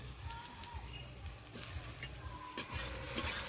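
Chopped tomato and onion fry in a pan, giving a soft, continuous sizzle that is close but quiet, with occasional stirring scrapes.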